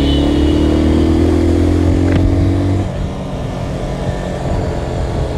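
A Zontes Phantom S 250 motorcycle engine, its throttle prone to sticking, revs loud and close with a held high-pitched drone that abruptly drops to a rougher idle halfway through.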